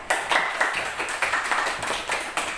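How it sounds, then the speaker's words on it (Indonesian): A class claps for a group after its presentation, a soft, brief patter of applause with rhythmic pulses, fairly quiet and without talk. "Kita beri tepuk tangan ya."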